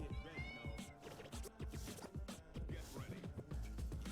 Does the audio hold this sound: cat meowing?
yes